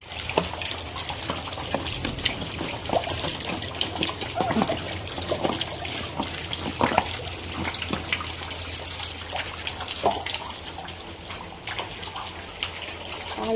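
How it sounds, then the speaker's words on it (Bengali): Water runs and trickles steadily out of a blocked drain outlet at a temple after it is cleared, a continuous close splashing flow with scattered sharper drips and knocks throughout. "তাহলে জলটা চলে যাবে।"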